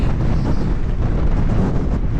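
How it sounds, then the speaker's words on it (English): Strong wind on the summit of Whernside, Yorkshire, buffets the microphone in a constant low roar, with no voices or other sounds breaking through. "it is so windy"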